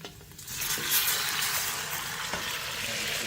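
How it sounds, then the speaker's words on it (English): Steady, bright sizzling of Roma tomatoes hitting a hot frying pan, a dense crackling hiss that swells and holds loud throughout. "So I'm gonna put some of the tomatoes in. They're gonna give a nice little sizzle."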